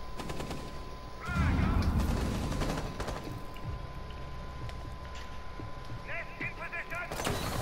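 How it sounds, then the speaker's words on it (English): Rapid bursts of automatic gunfire in Rainbow Six Siege, crackling in clusters at moderate distance, with a heavier burst early on, while a player talks excitedly over the shooting. "Oh my god, bro, they're shooting at me."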